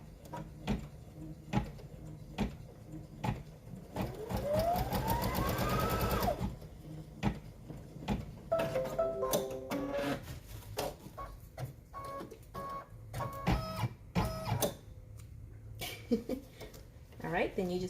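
An embroidery machine sews a placement stitch for a mug wrap, whirring and clicking in bursts with rising motor sweeps, while people talk nearby.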